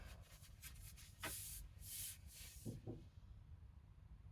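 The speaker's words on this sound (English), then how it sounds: "A bit more sanding in here." A yew bow is hand-sanded with a handful of short, quiet rasping strokes, faint and close, with brief pauses between them.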